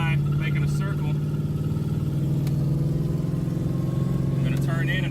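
A car drifting in a circle with its engine droning at a steady mid pitch, close and loud throughout, under a voice talking.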